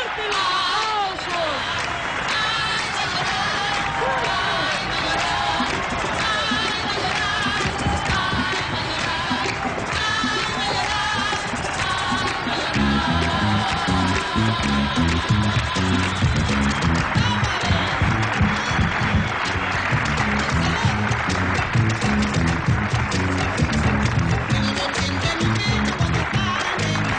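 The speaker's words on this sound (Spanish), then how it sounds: "¡Fuerte el aplauso!" A crowd applauds steadily for a Peruvian singer while a band plays loud music, with voices mixed in throughout.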